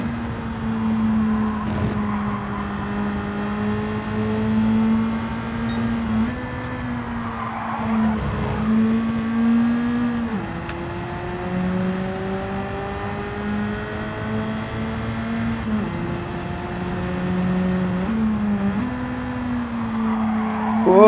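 A car engine drones and revs steadily under hard driving in a racing video game, pitch climbing and dropping with gear changes, with brief tire skids and squeals along the way; loud and continuous throughout, no talk.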